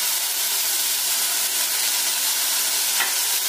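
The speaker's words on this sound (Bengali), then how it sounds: "একটু নাড়াচাড়া করে নিলাম, ভাজার কোনো দরকার নেই খুব বেশি" Beetroot and carrot stirred while frying in a pan produce a continuous close sizzle with soft scraping of the spatula, steady and unbroken throughout.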